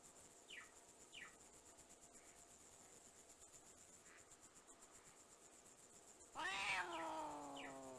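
A cat in a PSX adventure game gives a few short, faint mews over a steady chirping insect background, then one loud, drawn-out meow near the end. No one talks.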